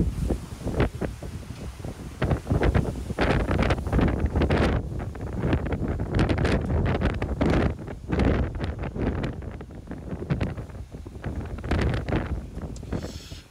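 Strong wind buffets the microphone on the open deck of the Costa Fortuna cruise ship at sea near Greece, a continuous loud roaring rush with gusty surges and no speech.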